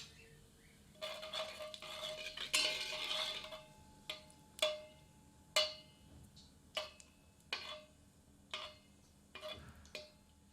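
Cumin seeds and whole dried red chillies fry briefly in hot mustard oil while a spatula scrapes and taps the pan in a loose, repeated rhythm over a faint sizzle, close and quiet with no voices.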